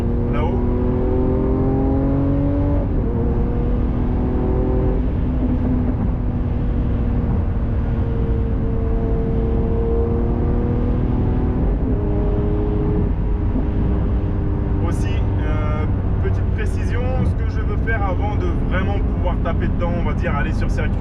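Lamborghini Aventador with a 740 hp engine in Corsa mode climbs uphill through curves in the rain, its engine droning steadily with rising and falling revs, shifting pitch between gears, loud and close throughout.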